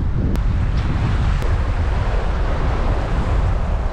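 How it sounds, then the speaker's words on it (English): Strong wind on a sandy shore while fishing roars continuously against the microphone, a heavy, low buffeting rumble with a couple of faint clicks. "That's how windy it is."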